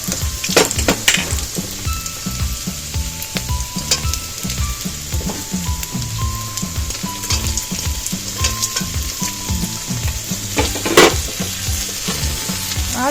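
Carrots, capsicum and other chopped vegetables sizzling in a hot pan and stirred repeatedly, giving a steady close frying hiss with rhythmic scraping strokes and occasional louder clatters and no voices.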